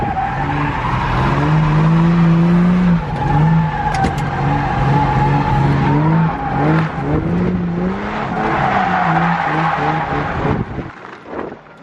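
A Foxbody Mustang with a Newedge 8.8 rear end accelerates hard in first gear, its engine note rising loud and close, with tire squeal and gravel crunching before the sound cuts off.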